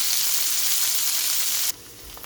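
Vegetables sear in a hot pan with barbecue sauce, a loud, steady sizzle that carries on without a break, then drops abruptly to a quieter hiss near the end.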